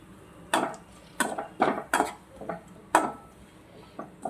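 A spoon scrapes and clinks against a pan while red chili powder is stirred for a cabbage dish, giving about ten sharp, irregular taps over a quiet background.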